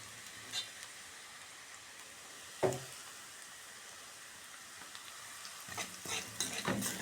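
A little garlic fries in a pan for pasta with a faint, steady sizzle, broken by a sharp clack around the middle and a burst of louder stirring and scraping near the end.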